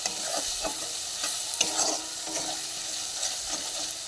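Ginger, garlic and chili paste sizzles steadily in hot oil in a pan while being stirred, with irregular scraping strokes over a constant frying hiss, close and moderately loud.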